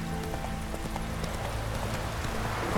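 Roach's hooves clip-clop in The Witcher 3, a rapid, steady rhythm of hoofbeats heard close up in a short burst, with a snort or whinny mixed in.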